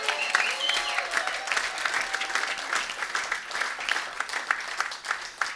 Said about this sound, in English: can we hear it for James